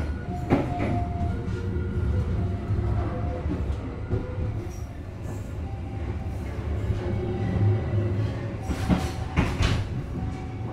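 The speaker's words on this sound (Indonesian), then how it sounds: "Sekarang udah berangkat lagi dari stasiun Cirebon ya, dan melintas langsung di stasiun Cirebon Perujakan" Fajar Utama Yogyakarta executive-class train pulling out of Cirebon station in Indonesia and passing Cirebon Prujakan, heard from inside the carriage as a steady low rumble of wheels on rail with clacks and brief squeals.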